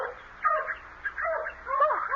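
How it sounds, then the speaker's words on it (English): Dogs bark, yip and whimper in a close, restless series of short cries, part of a radio mystery drama scene with no talking over them. "I'll get the dogs quiet."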